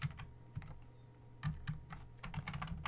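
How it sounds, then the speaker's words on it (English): Computer keyboard being typed on while configuring a firewall, a quiet close series of clicky keystrokes in short irregular bursts with brief pauses. "Let's just type it in here."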